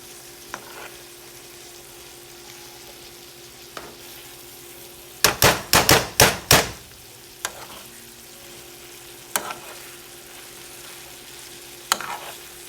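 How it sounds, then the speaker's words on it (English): Hamburger beefy soup ingredients with flour are stirred together in a pot, with a cluster of loud scraping strokes in the middle and a few isolated clanks before and after against a quiet background. "And I'm gonna mix it all together."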